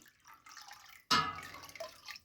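Unboiled tap water mixed with cheese-making enzyme is poured into a pot of unpasteurised milk, a quiet trickle rising into a sudden close splash and pouring gurgle that tapers off, no talking.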